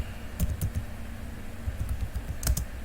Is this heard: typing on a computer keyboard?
yes